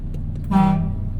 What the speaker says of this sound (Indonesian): Kita coba klaksonnya, guys.